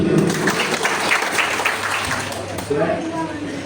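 An audience at a company gathering applauding, a dense, sustained wash of clapping close by for a few seconds, with voices mixed in.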